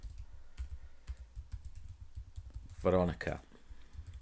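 Soft, quick typing on a computer keyboard while writing a first draft, light irregular key clicks throughout, interrupted briefly by a spoken word.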